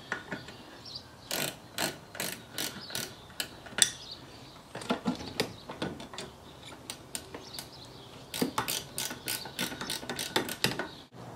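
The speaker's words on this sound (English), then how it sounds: "We use a 9/16 open-end wrench to remove the brake lines off the master cylinder." A 9/16 open-end wrench works the brake line nuts off the master cylinder of a 1969 Corvette C3, giving sharp metallic clicks and ratcheting taps in irregular bursts with short pauses between them, close and fairly quiet.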